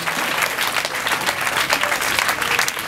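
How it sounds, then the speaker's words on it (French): Audience applause at a Congolese political gathering, a dense, steady wash of many hands clapping at a fairly loud level throughout, with a few voices faintly mixed in. "Vous pouvez l'applaudir."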